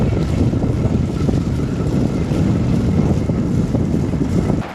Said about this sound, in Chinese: 来青海已经5、6天了，没有一天是不刮风的